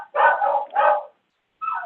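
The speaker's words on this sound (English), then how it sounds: "Shut up your dog." A dog barks in two close, loud bursts, goes quiet briefly, then starts a third bark.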